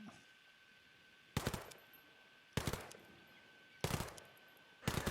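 Unsuppressed rifle fire in the video game Ghost Recon Breakpoint: four loud, sharp short bursts spaced about a second apart, each with a brief ringing tail over a quiet hum, with no talk.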